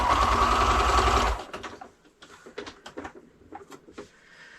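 A sewing machine runs fast and steady for just over a second, stitching a seam along one edge of a scrappy log cabin heart quilt block, then cuts off into scattered light handling clicks and rustles.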